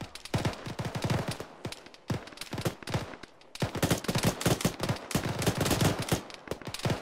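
Sustained gunfire in the military shooter game Arma, dense bursts of automatic and rapid rifle shots cracking near and loud, with only brief pauses between volleys.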